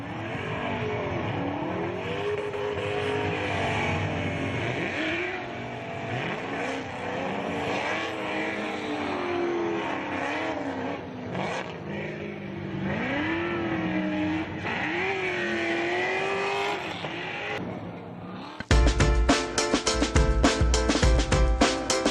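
Formula Drift PRO2 drift cars rev and race at a Texas round, engines wailing up and down with tire squeal and a loud crowd-side roar, a harsh burst of revving near the end, no talk.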